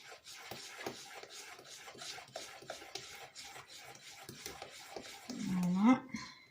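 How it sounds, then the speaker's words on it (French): Spatula scraping the sides of a mixing bowl of madeleine batter, soft repeated rasping strokes close by, fairly quiet, ending in a brief louder scrape. "Vous raclez même les bords du saladier pour que ça soit bien mélangé."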